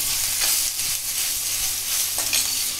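Vatap masala, a ground spice paste, roasts in hot oil with a loud close sizzle and bursts of crackle as it is stirred and turned in the pan, continuous throughout.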